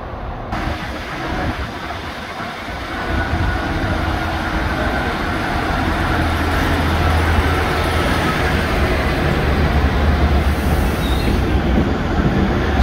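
A Merseyrail Class 508 train rumbles into the sidings at Shrewsbury station close by, a low steady roar that grows louder after a few seconds and holds, with no voices.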